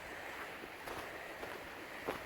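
A creek on a one-acre camping property flows with a steady, soft rushing murmur, moderately distant, without any talking.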